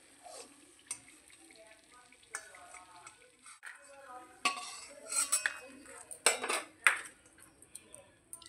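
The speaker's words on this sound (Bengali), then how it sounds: "বড়িটা ভাজা হয়ে গেছে, বড়িগুলো এবার তুলে নিচ্ছি।" Fried lentil dumplings (bori) are lifted out of a pan of hot oil with a metal utensil, giving scattered clinks and scrapes against the pan that grow busier toward the end, with a voice talking over them.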